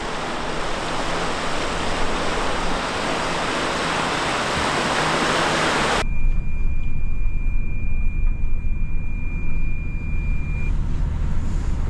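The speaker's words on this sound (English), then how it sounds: "It's a pretty deep water crossing." Vehicle plowing through a deep water crossing on the Mojave Road, a loud continuous rush of splashing water that cuts abruptly to a lower rumbling engine and wash, with a thin steady tone.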